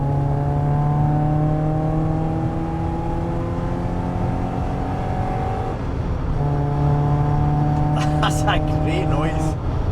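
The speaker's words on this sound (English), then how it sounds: "Let's see how that 318IS engine sounds." A BMW E30 318iS four-cylinder engine hums under load with steady tones that rise gradually, dip briefly as if between gears, then climb again, while someone talks over it near the end.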